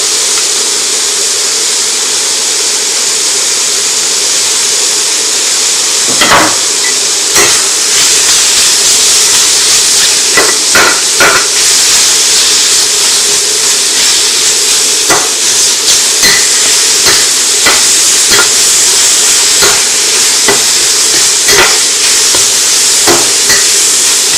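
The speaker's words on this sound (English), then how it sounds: "Next, I'm going to add the white sliced onion." Sliced white onion frying in hot oil for a soy curls lo mein: a loud, steady sizzling hiss throughout, broken by scattered crackles and pops from the pan.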